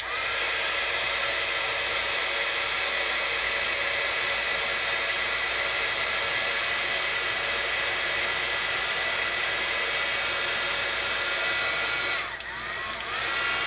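A heat tool blows steadily and loudly as it melts embossing powder, a constant broadband whoosh like a hair dryer that holds for about twelve seconds before a brief dip near the end.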